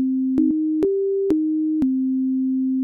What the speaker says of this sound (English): When we now play a note, a sine wave is heard.